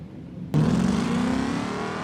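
A turbocharged Brunkle race car launches hard off the line in a BeamNG.drive hill climb, engine bursting from quiet into a loud, sustained revving roar that climbs steadily in pitch.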